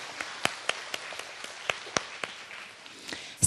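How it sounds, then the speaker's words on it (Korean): Scattered, sparse hand claps from a few pupils in a classroom, a dozen or so sharp irregular claps at moderate distance, with a louder burst at the end and no talk. "이럴 때 박수 한번 이때 치셔야 됩니다."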